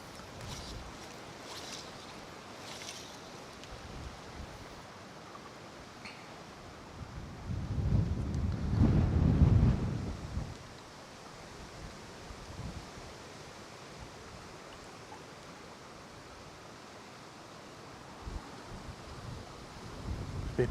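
Wind gusting upstream over the River Vyrnwy on an afternoon of fly fishing, a steady broadband rush with one stronger, louder gust swelling in the middle before easing back to a constant blow.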